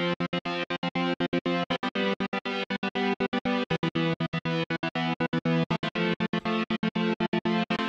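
An Analog Dreams synth patch run through the A1 Trigger Gate plugin on its default setting, chopped into fast, rhythmic stuttering pulses that sound steady and dense throughout.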